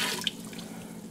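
A mixture of milk and butter with pure orange extract is poured into a mixing bowl, a brief steady wet trickle and splash heard close by with no talking.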